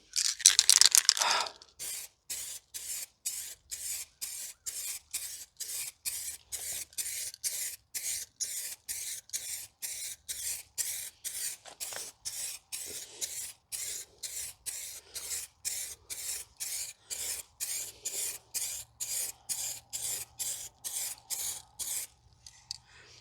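A heavy coat is sprayed onto a restored car headlight in a long series of short, evenly spaced hissing bursts, each a fraction of a second. The spraying is close, moderately loud and without talk, after a louder rattling burst at the start.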